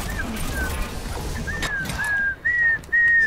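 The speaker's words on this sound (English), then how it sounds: "Whoever's whistling just keeps pushing." Someone whistles a short rising tune over the background noise of an Overwatch match, with several clear tones toward the end.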